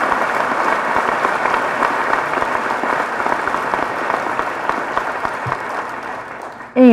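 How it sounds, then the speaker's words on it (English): A graduation audience applauds retiring teachers with steady, dense clapping that holds for about seven seconds before tapering off, while a faint voice comes in at the very end. "could we have another round of applause for all of the retiring teachers?"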